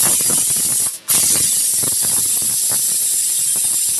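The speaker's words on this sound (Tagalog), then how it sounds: "pasingaw na natin ang ating pressure cooker" A pressure cooker full of boiling beef (nilaga) vents steam in a loud, continuous broadband hiss, broken by a brief dip near the one-second mark before the jet resumes at full strength.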